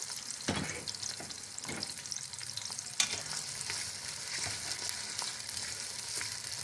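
Steady sizzling and crackling of onion and garlic frying in a pan, with occasional scraping stirs, close and continuous.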